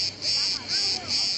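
Cicadas in Kos, Greece keep up a steady, shrill buzz that swells and eases in pulses, loud and close with nothing else over it.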